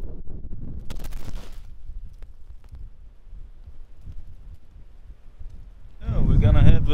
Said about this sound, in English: here we have a little wind demonstration